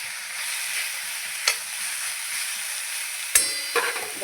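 Wild tandulja greens stirred through hot oil in a pan, a steady close sizzle with a couple of sharp scraping clacks from the spoon, no voices.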